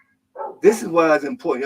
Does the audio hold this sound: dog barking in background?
yes